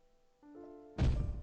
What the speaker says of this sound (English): Like banging on the wall?